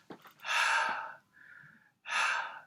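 A voice imitates the breathy letter H sound, giving two long airy exhaled huffs close up with a quieter breath between them.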